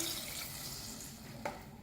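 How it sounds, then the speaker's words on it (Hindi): Water poured from a glass into a pot of browned mutton frying in masala paste for korma, a steady low pouring wash with a brief splash near the end. "अब इसमें पानी शामिल करेंगे।"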